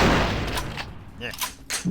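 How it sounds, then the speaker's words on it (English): Booming shotgun blasts from the video game Vampire: Bloodlines, a few loud close shots in quick succession over dense game noise. "Shotguns are still a problem at this stage of the game"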